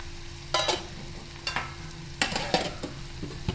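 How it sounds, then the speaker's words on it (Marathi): Prawns sautéed with turmeric in a pan, stirred by a utensil in several distinct bursts of scraping and sizzling at close range over a low steady background, with no talking. "आता आपण हळद टाकलेली आहे आणि ते आपण परतवून घेऊ"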